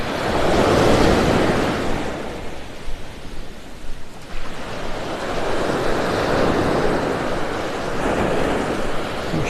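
Surf rolls in and breaks in long, rushing swells on a beach in North Naples, Florida, while wind blows across the microphone, loud and continuous.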